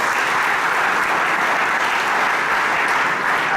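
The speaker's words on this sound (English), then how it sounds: "We shall give him a big clap." An audience claps for a priest who has returned after finishing his doctorate, a steady, even wash of applause that is loud and continuous from start to finish.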